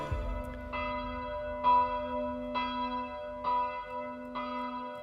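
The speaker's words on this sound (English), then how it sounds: "hearing church bells when they ring is much more than just something we sense with our ears" A church bell tolls at a slow, steady pace, each strike ringing out with a long, humming overtone that lingers between strokes.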